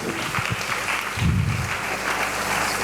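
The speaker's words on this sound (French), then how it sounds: "Acclamons très fort pour Jésus" A church congregation applauds during a sermon: steady, loud clapping from a crowd that rises briefly, then carries on evenly for a few seconds.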